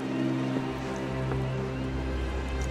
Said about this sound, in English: Well, it's rainy again.